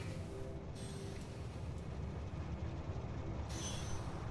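A train running on tracks in the Factorio video game, heard as a faint, continuous rumble of rolling wheels and carriages with no talking.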